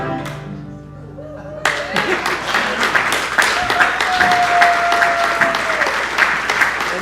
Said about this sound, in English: You can clap again, ain't nothing wrong.